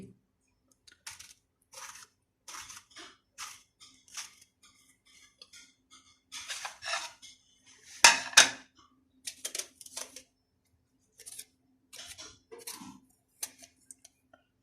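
Taro and eggplant are chopped by hand for a home-style curry. Sparse, crisp knife taps and clicks come at an irregular pace, with a short cluster of louder cuts midway, close and fairly quiet.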